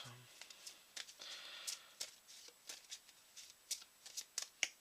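Cards from The 7th Continent board game are shuffled, sorted and handled on a table, giving quiet, close papery flicks and soft taps in an irregular, busy rhythm throughout.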